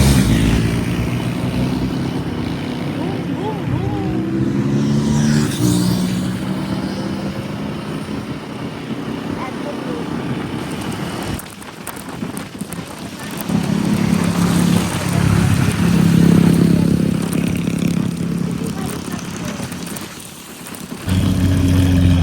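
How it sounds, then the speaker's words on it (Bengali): Expensive motorcycles on a Bangalore ride out toward Penukonda fort pass close by, engines booming and rumbling in waves, swelling loud then fading under steady road and wind noise. "পাশ দিয়ে বেরিয়ে যাচ্ছে বুম বুম করে দামি দামি বাইক"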